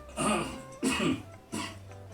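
Three separate coughs, close and fairly loud, each a short harsh burst with brief pauses between.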